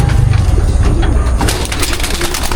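Pigeons at a racing pigeon loft coo in soft, low, repeated throaty calls close by, over a noisy outdoor background.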